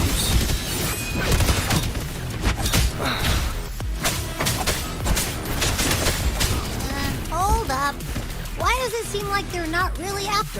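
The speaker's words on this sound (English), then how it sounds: "Ugh, gunfire! Coming from behind that door!" Video game gunfire heard from behind a door, rapid bursts of shots under dense music and sound effects, with a voice talking over it throughout.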